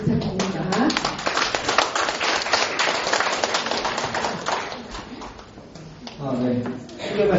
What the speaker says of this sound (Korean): 한우선 박사님 나오실 때 박수 부탁드립니다.